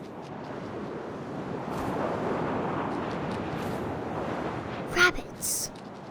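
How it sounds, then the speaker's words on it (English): Wind in What Remains of Edith Finch while playing as an owl: a soft, steady rushing whoosh that swells gently, followed by two brief sharper bursts near the end. "First, all I heard was the wind."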